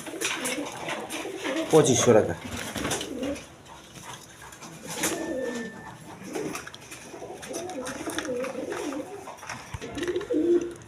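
Pigeons kept for sale coo softly in bursts under someone talking over them, with low burbling calls rising and falling.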